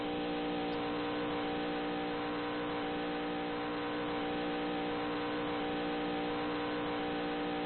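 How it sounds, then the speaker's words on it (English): Pilot truck engine idling and running at Michigan race track, a steady droning hum with a constant tone and faint rustling, no talk over it. "the only truck that'll probably have sound for us tonight is the pilot truck"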